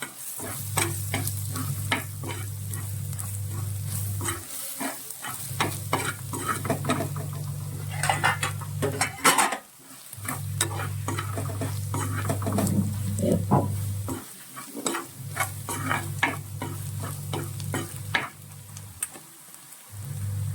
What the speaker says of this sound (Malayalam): പിന്നെ നമ്മൾ കുറച്ച് ക്രഷ് ചെയ്ത കുരുമുളകും കൂടി ഇതിൻ്റെ കൂടെ നമ്മൾ ചേർക്കുവാണ് ഇതെല്ലാം കൂടി നന്നായിട്ട് മിക്സ് ചെയ്യണം